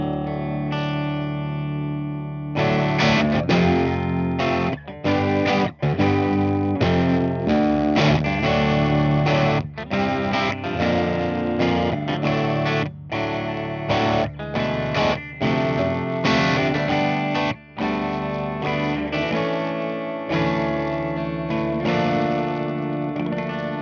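A 1987 ESP Kamikaze electric guitar with its humbucker pickup wide open plays loud, heavily distorted, thick chords and riffs, dense and sustained with brief choppy breaks, close and very loud.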